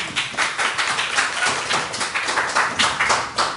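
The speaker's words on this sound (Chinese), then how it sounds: "我们掌声欢迎。" An audience at a student self-introduction event claps in welcome, a close, brisk run of many overlapping claps with regular pulsing bursts that holds steady throughout, with no talking.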